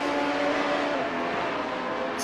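Historic Formula 1 race cars, a Ferrari among them, scream down the Interlagos main straight. High-revving engines give a loud, sustained, buzzing whine that stays close and steady throughout.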